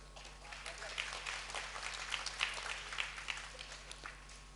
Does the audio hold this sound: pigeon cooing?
no